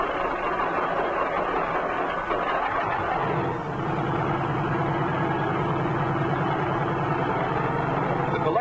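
A helicopter engine runs steadily after a self-start warm-up, a continuous dense mechanical drone with a low throbbing rhythm that settles in partway through, loud and close with no talk over it.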